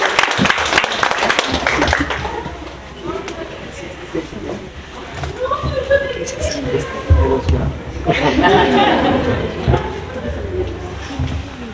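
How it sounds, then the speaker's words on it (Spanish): Brief applause from an audience at a lecture, a short burst of clapping at the start that gives way to murmuring voices and scattered chatter, with a second softer swell of clapping later. "Un aplauso."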